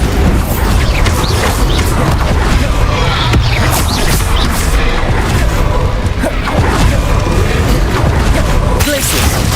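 Loud, dense game combat with repeated booming blast explosions and whooshing spell impacts from Hogwarts Legacy, overlapping continuously with clashing effects and a speaking voice.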